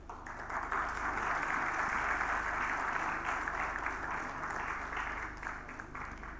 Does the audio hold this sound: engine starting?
no